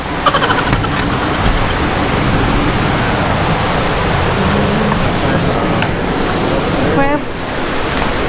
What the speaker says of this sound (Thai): ใช่เสียงแบบเสียงน้ำตกแรงมากอะเสียงน้ำตกชัดมากเลย นอนฟังเสียงน้ำตกทั้งคืน